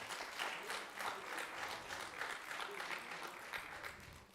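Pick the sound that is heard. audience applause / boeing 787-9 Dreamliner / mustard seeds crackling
audience applause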